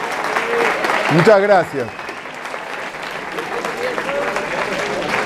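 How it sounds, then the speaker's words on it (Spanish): Audience applause at the end of a university talk on bioengineering careers: loud, dense clapping that swells and carries on steadily, with someone briefly speaking over it partway through. "el aplauso para ustedes"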